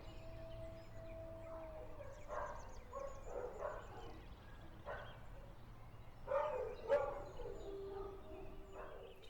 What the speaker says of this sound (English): A Greek sheepdog is the best dog to protect the animals here in Greece.